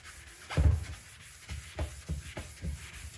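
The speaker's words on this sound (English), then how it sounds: "So, I'll keep scrubbing away and bring you back" Headlight lens being scrubbed by hand with a Simoniz Platinum headlight restoration kit, a close series of rhythmic rubbing strokes, the first one loudest, with no talking.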